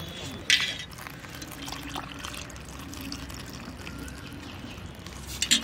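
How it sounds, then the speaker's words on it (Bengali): Water pours and splashes into churned cream in a village kitchen while homemade cow ghee is being prepared, a soft continuous liquid wash with small drips and two brief clinks. "এবার আমি জল দিয়ে দেবো।"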